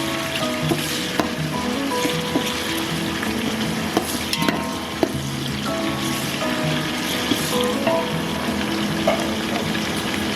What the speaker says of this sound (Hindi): जी टमाटर मैंने डाल दिए हैं। अब इसे अच्छी तरह मिक्स करेंगे।